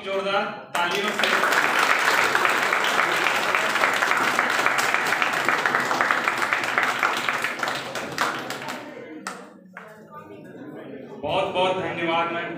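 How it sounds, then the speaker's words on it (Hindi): A university audience greets guests at a formal function with loud, steady applause lasting several seconds, then it thins out and someone speaks over the last moments. "आप लोग जोरदार तालियों से"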